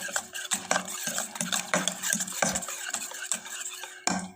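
A spoon stirs besan batter for green pea dhokla in a bowl, with continuous close scraping and sloshing strokes that are fairly loud and unbroken, with no talk over them.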